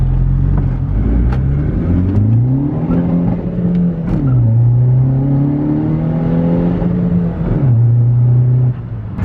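A 276-horsepower Skoda Fabia VRS engine rises and falls through several rev sweeps, loud and close, with steady harmonic tones climbing and dropping as it accelerates past, no one talking.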